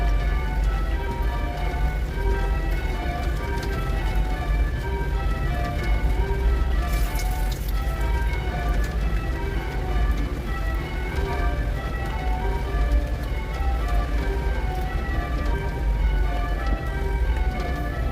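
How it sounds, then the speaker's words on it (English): Steady rain falls continuously and fairly loud throughout, a dense, even patter with no talking. "It's fucking rain, guys."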